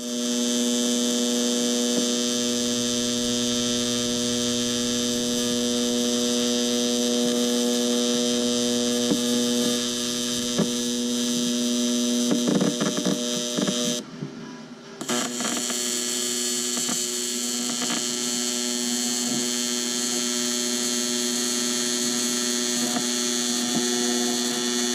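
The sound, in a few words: welding a blow-off valve flange on a Honda CRX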